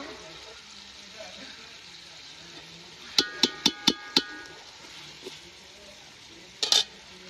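Biryani ingredients frying in a pan, with a faint sizzle beneath a quick run of five sharp metallic taps from the stirring utensil and another brief clatter a few seconds later.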